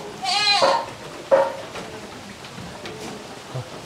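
Goats on a farm bleat close by, a long wavering call followed by a shorter one and fainter bleats, over a soft background patter like light rain.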